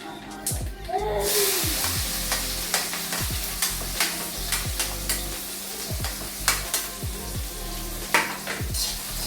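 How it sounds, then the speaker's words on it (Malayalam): Crushed onion fries in hot oil with spluttering mustard seeds for a spicy beetroot stir-fry, making a continuous close sizzle with repeated scraping and clinking from stirring in the pan. "അപ്പോൾ ഇതേ കടുവ് പൊട്ടുന്നുണ്ട് അതിലേക്ക് നമ്മൾ ഇതിട്ട് കൊടുക്കുക"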